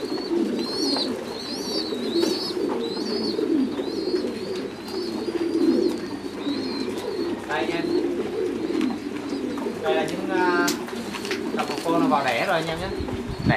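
Thai meat pigeons in a loft coo repeatedly, with soft rolling calls close by, while someone talks over them throughout.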